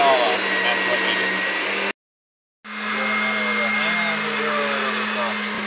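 An electric meat grinder runs up close, whining steadily while grinding ham for ham loaf, pausing briefly before starting again with a loud, continuous motor hum.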